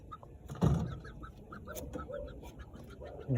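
A Sweater McLean gamecock rooster makes soft, faint clucks at a backyard farm, with short repeated calls and a brief louder rustle near the start.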